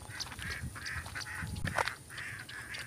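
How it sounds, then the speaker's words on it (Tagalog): Several ducks quacking in bursts nearby, calls overlapping in a busy, continuous chatter outdoors. "Oh, ang daming itik."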